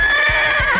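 A horse neighs loudly and close in the You Don't Know Jack video game, a single drawn-out whinny with wavering pitch and faint hoof thumps beneath, with no talk.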